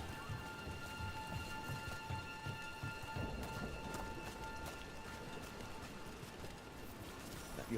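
Rain pours steadily in a Dragon Age: The Veilguard game scene, a soft, even hiss of drops on surfaces with faint tonal hums of game ambience running beneath, quiet and unbroken.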